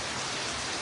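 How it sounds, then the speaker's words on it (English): Steady rain falls close by, a dense, even hiss that holds without a break for the whole short stretch, with no voices over it. "am I louder than the rain?"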